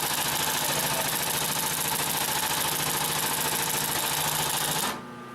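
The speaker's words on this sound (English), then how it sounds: "so we're going to sew over it again." Consew 744R-30 industrial sewing machine stitching through thick leather, a steady, loud, fast mechanical chatter that runs continuously for about five seconds before stopping abruptly.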